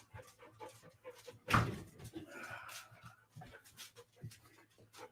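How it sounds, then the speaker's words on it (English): A Belgian Malinois gives a single loud bark up close, surrounded by quieter thumps, scuffles and soft whimpering sounds. "My Belgian Malinois couldn't stop barking."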